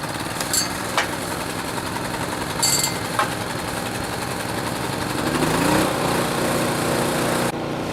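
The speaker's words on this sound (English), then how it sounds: "I just got to fire up the generator and get it warming up." A generator fires up and settles into a steady running drone, with a couple of sharp clanks early on and a pitch shift near the end, close and loud.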